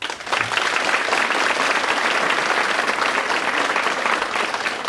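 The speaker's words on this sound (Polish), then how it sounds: "Duże brawa, kochani." Audience at a tribute benefit concert breaks into sustained, loud applause, a dense steady clapping that fills the whole stretch with little variation.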